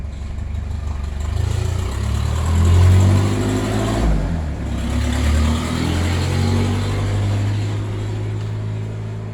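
Road traffic rumbles past a roadside house, engine noise swelling and fading as vehicles go by, one louder pass standing out, with no one talking.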